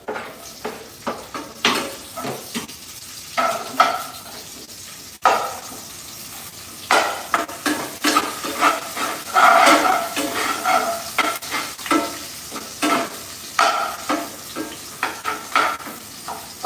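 Onions fry in a pan with repeated stirring scrapes and clinks of a utensil against the metal over a steady sizzle, in uneven bursts with no voices.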